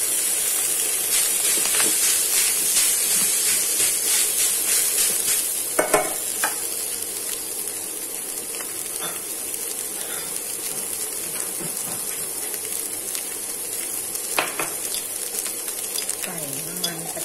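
Rice frying for a vegetarian salted fish fried rice, a steady loud sizzle and hiss in the pan throughout with occasional stirring scrapes and clatters.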